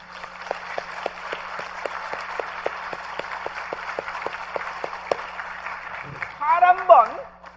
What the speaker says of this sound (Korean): 우리 하나님께 영광의 박수합니다.